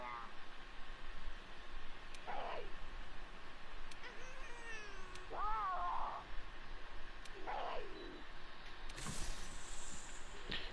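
Cat companions in a video game meow in several separate drawn-out calls spaced across the stretch, over a steady game background hum with occasional clicks.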